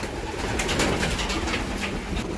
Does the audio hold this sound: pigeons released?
yes